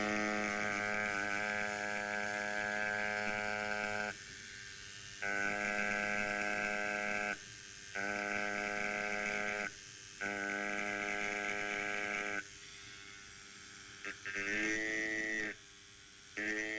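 A Centri Evader 3 Blackbird rotary tattoo machine runs in several steady bursts with short pauses between them, giving off a smooth, even electric buzz close to the listener.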